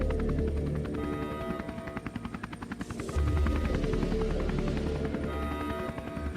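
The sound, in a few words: Coke Jobs attack drone flying in the video game Neofeud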